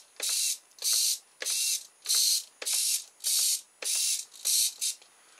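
A servo on a simple RC model whirs in nine short, evenly spaced bursts of close, high-pitched gear buzzing, each lasting about half a second with brief silences between, with no talk.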